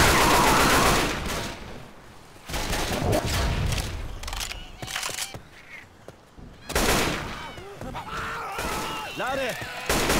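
Gunfire in the video game Left 4 Dead 2, heavy bursts and rapid volleys of shots that come and go in loud clusters, with someone talking over parts of the action.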